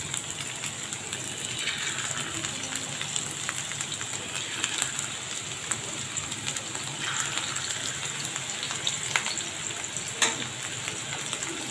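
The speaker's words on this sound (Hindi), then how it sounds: "लीजिए, अब हम इसको इस तरह से फ्राई करने के लिए रख देंगे।" Beef galouti seekh kababs frying in ghee in a flat pan, a continuous crackling sizzle with fine spattering pops, steady and close throughout.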